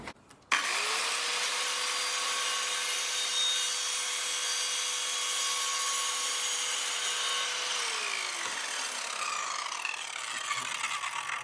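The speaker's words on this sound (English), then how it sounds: "Next on the list, we're going to test some plastic PVC pipework." An Evolution R185CCSX multi-material circular saw spins up sharply and holds a loud, steady high whine while cutting plastic PVC pipe, then winds down near the end, leaving quieter clicks and handling noise.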